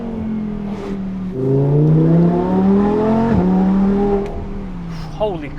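An Audi R8 V10 Plus on a hillclimb revs hard, rising and falling in loud, close engine sweeps with abrupt gear shifts, the V10 roaring up through the gears.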